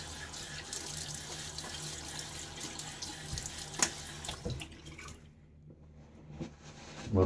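Tap water runs steadily into a sink for wetting the face before a shave, a continuous close splashing flow that thins out and goes quiet near the end, with a few drips and clinks.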